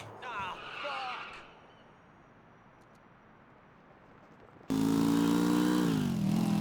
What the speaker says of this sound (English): As you can hear, like the audio bug of the engine, yeah, that's still a thing.